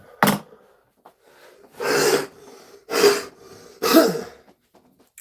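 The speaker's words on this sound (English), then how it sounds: "Once I get moving, that cough comes out" A person coughs four times, one sharp cough followed by three heavier, rougher ones spaced about a second apart, close to the microphone in a quiet room with faint breathing between them.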